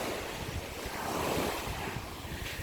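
Ocean surf washing onto Sunset Beach at a Jamaican resort, a steady broad rush of waves mixed with strong wind buffeting the microphone, loud and continuous with no distinct breaks.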